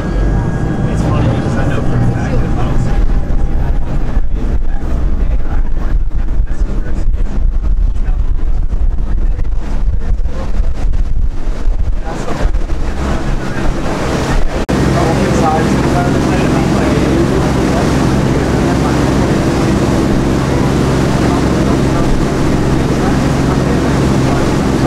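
A tour boat engine at Pearl Harbor rumbles loud and steady throughout, with wind buffeting the microphone.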